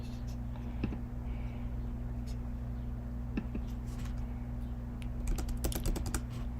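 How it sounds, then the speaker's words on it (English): Fast typing on a computer keyboard during a live stream, with faint, scattered key clicks in irregular bursts and short rapid runs over a quiet room hum. "I ain't feel like typing that shit."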